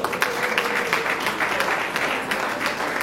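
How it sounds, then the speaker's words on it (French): An audience breaks into steady, dense applause at an International Women's Day evening event in Ottawa, a continuous wash of many hands clapping close by for a few seconds. "Est-ce qu'on peut acclamer pour elle?"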